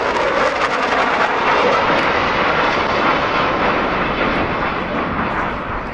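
A Rafale fighter jet roaring past at an air meeting, a loud, continuous broadband rush of engine noise that stays strong throughout and eases slightly toward the end.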